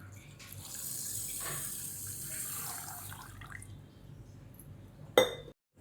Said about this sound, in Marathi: पाव किलो साखर घेतली आणि अर्धा तांब्या पाणी ओतून घेते मी